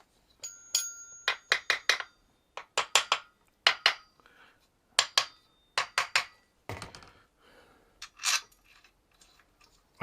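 Clusters of sharp metallic taps ring out as a part is tapped onto a Kawasaki Z1A 900 motorcycle engine during a rebuild. The strikes come close up in short bursts of two to four, with quiet gaps between them.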